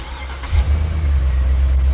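Camper van engine with new fuel lines catching and settling into a steady low idle rumble, close and loud, running smoothly on its own with no voices.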